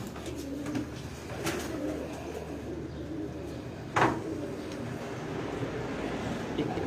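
Pigeons coo softly on a rooftop where a pigeon fancier keeps his birds, their low murmuring calls under a steady hum of background noise, with a couple of brief sharper sounds.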